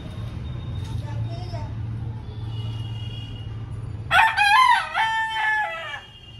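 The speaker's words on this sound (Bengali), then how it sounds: "মোরগ খাবি আয়" A rooster crows loudly and close by, a long cock-a-doodle-doo rising abruptly out of a low steady hum of background traffic in a rural yard, with faint murmuring before it.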